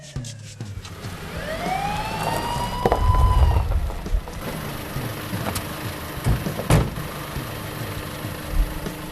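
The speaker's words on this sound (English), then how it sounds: "they hit the siren and bolted" A police siren wails upward and sweeps through a rising-and-falling cycle over an idling engine and rain-like background noise, then cuts off, leaving scattered clatters and knocks.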